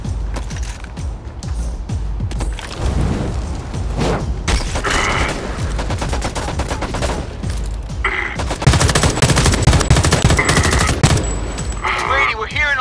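Heavy, sustained gunfire in the video game Homefront: The Revolution, with dense bursts of automatic weapon fire and loud shots layered over rumbling booms and mechanical clatter for the whole stretch.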